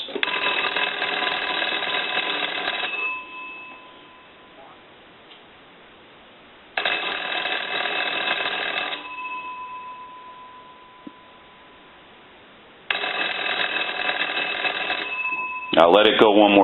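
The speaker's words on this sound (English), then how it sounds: "I want to ring the magneto and ring the bells." Loud mechanical bells of a Western Electric 317 wooden wall crank telephone ring in long buzzing bursts, three rounds separated by quieter pauses, with a brief clatter at the end.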